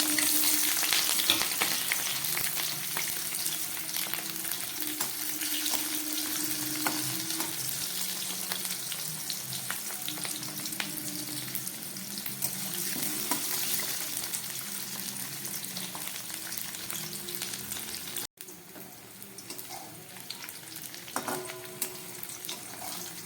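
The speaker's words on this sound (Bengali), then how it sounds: "এবার এর মধ্যে আমি এই কেটে রাখা পেঁয়াজটাকে ভেজে নিচ্ছি।" Sliced onions fry in hot ghee and oil, giving a continuous close sizzle and crackle with occasional stirring, which dips briefly before carrying on.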